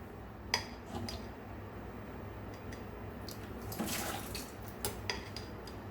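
Fermented plum syrup pours and trickles into a container as it is strained, with scattered clinks of metal utensils and dishes against a low background hum; no talking.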